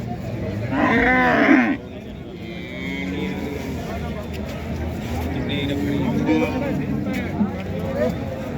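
A buffalo gives a loud, close moo lasting about a second at a livestock market in Jagraon, followed by steady market din and someone talking throughout.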